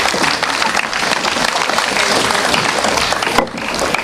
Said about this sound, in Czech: a váš potlesk to jenom potvrzuje